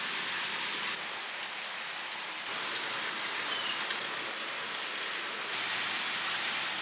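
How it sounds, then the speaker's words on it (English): Steady rain falls outside on a fall day, a soft continuous hiss that holds evenly throughout with no voices. "we are currently being rained in right now, and it is beautiful, a nice like fall rainy day"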